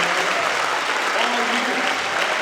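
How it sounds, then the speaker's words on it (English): Audience applause for a middle school jazz band at a spring band concert, a dense steady wash of many hands clapping, fairly loud and sustained throughout with faint crowd murmur underneath. "let's give them a round of applause for"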